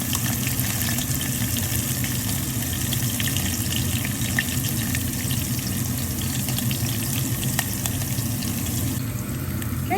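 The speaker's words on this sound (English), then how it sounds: "the green chilies have sizzled nicely, about 30 seconds" Green chilies sizzle steadily in hot oil in a pan, a dense, continuous crackle and hiss held close and fairly quiet for several seconds with no talking.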